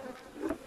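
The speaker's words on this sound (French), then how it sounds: "Il y a déjà beaucoup plus d'abeilles que ce qu'on avait vu." A faint, brief buzz of bees around a hive, a soft hum of many insects close by with no voices.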